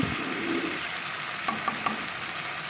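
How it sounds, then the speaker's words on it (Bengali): Potato and eggplant pieces, with tomato, are stir-fried with spices in a pan, giving a low, steady sizzle and three sharp clicks of a utensil near the end. "মশলার সাথে ভালো করে কষিয়ে নিয়েছি।"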